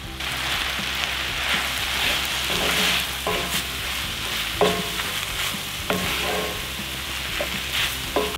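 Kimchi sizzles and fries in a pan with a steady hiss, broken by periodic scraping stirs and light utensil taps, close and fairly loud with no talking.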